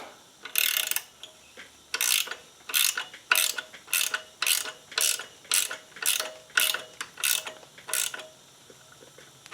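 A ratchet wrench tightens a bolt on a lift kit for a Honda FourTrax 300 ATV, giving about a dozen quick, crisp bursts of clicking in a steady back-and-forth rhythm, close up and alone.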